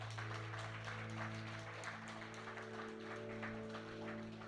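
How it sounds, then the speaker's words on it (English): An audience applauds a ClearCrawler walking robot demo at Hackaday SuperCon 2019, with steady clapping from a crowd heard at a distance over a low hum. "hearing everybody clap for me"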